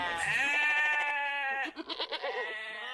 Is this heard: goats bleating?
yes